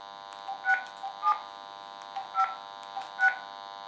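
Touch-tone telephone keypad beeps while dialing a call, a series of short tones in uneven groups over a steady background hum.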